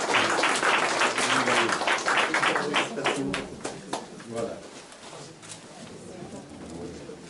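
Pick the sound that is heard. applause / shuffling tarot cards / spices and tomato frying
applause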